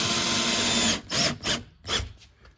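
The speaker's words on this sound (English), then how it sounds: "you'll just go around this window, put in your screws" A power driver whirs in short bursts as it drives screws around the frame of a Hehr jalousie window during restoration, one long run followed by three brief pulses, loud and close.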